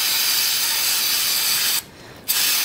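Aerosol brake cleaner sprays in a steady, loud hiss onto a valve spring pad of a GM Gen V L83 cylinder head, cutting off briefly before a final short burst; no talking.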